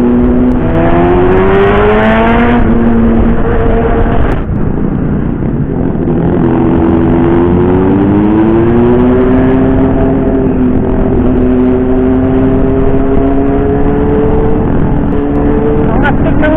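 Loud motorcycle engines, including KTM big bikes, idle and rev up and down repeatedly, pitch rising and falling, close and continuous.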